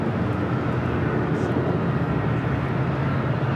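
A Southwest Airlines Boeing 737-700 from Oakland arrives at Los Angeles International Airport with a loud, steady jet engine roar. A voice talks over the engine noise.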